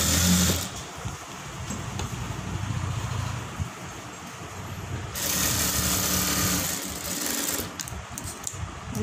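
Electric sewing machine stitching the sides of fabric in a home tailoring setting, running in steady bursts with a brief pause, fairly close and alone without talk.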